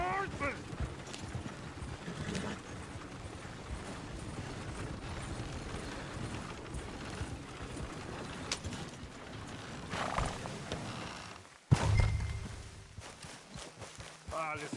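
Red Dead Redemption 2 game audio: hooves clip-clop over a steady murmur of background activity, with a horse whinnying and a sudden loud thump near the end.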